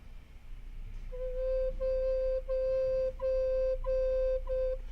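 A recorder sounds a low C in several sustained, pure, steady tones separated by brief breaks. The notes are close, clean and fairly soft, over faint background hum.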